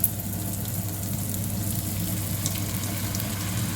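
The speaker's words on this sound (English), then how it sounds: "Now I'm going to add the egg." Egg poured into a pan for a breakfast wrap sizzles and crackles steadily at close range, a continuous even frying hiss with no talk.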